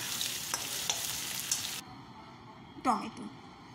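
Chili chicken ingredients frying in a pan as they are stirred, a close crackling sizzle with scraping strokes that drops to a quieter hiss, then a sharp clattering scrape near the end.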